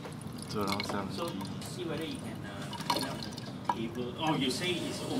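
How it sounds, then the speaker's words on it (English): Water is poured through a funnel in a steady, trickling stream with soft drips and gurgles, heard faintly under a person talking throughout. "now we'll actually be pouring the water in through a funnel"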